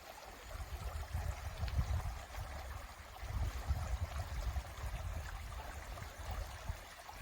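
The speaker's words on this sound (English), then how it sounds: "I was over on that side of the creek, stream, whatever we want to call it." Creek flowing beside a forest trail, a steady low rushing and gurgling wash of water heard throughout at moderate distance, with no talk.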